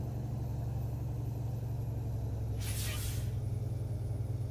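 In the video game American Truck Simulator, a sharp burst of truck air brake hiss cuts through the steady low rumble of an idling truck engine, lasting under a second.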